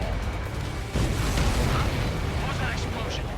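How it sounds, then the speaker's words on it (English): A deep, rumbling explosion booms in the Ace Combat 7 video game, a dense roar of blast and debris that swells and lingers, with voices partly heard over it. "What was that explosion?"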